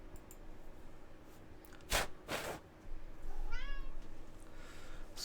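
A pet cat gives a drawn-out, rising and falling meow for attention, close and clear, after a couple of short rustling bursts against a low background hum.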